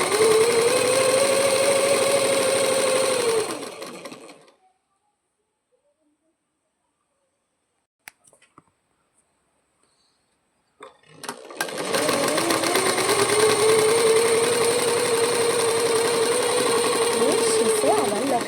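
A sewing machine stitches a lungi seam in two long, steady whirring runs separated by a quiet pause with a few small clicks; the motor hums close and loud.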